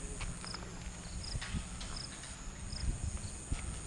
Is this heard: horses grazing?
yes